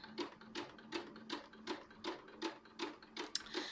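A sewing machine runs a shirring line of gathered stitching, its needle thumping in an even rhythm of roughly three strokes per second. The close, steady chatter continues alone with no voices.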